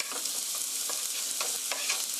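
Garlic and onion stir-fry in hot oil for a tomato sauce, a continuous bright sizzle with soft, irregular scrapes of stirring close by, no voices.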